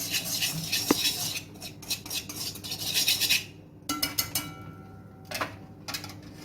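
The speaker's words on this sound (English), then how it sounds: "I'm gonna use my whisk. Just combine all of them." A metal whisk clinks and scrapes against a bowl while paprika and spices are combined: rapid, irregular ticking taps in bursts, with brief pauses between strokes and no speech.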